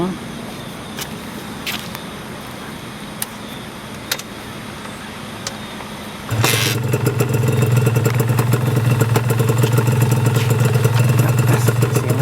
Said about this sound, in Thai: เดี๋ยวจะมาฟังเสียงเครื่องกันนะครับ